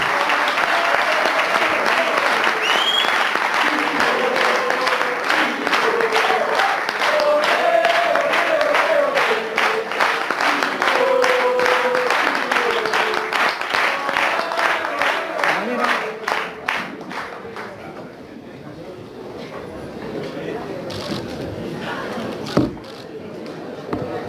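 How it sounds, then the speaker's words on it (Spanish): Sustained applause from a large audience at a national banking congress, dense rapid clapping with some cheering that gradually thins out toward the end, a voice speaking over it. "Fuerte ese aplauso"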